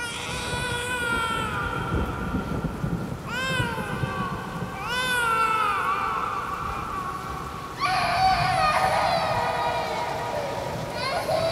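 High, wavering wails of a baby or girl crying rise in repeated bursts over steady rain and low rumble in a song intro, growing more intense toward the end.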